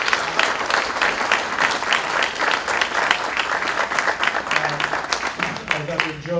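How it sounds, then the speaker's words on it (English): Graduates at a December commencement ceremony give themselves a sustained round of applause, loud dense clapping from a large crowd with a few voices toward the end. "I want to give yourselves a round of applause because you made it"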